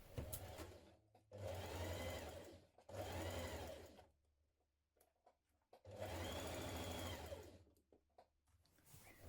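A sewing machine understitches along the facing of a jumpsuit seam in three bursts of rapid whirring stitching, each a couple of seconds long, separated by quiet pauses with small handling clicks.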